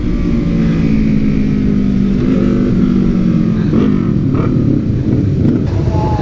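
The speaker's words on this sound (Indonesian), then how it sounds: "Gila itu R25 kenceng banget." A Yamaha R25 motorcycle accelerates hard while out on a group ride alongside a CBR250RR, its engine note climbing steadily and loud throughout with strong wind rush, no talking.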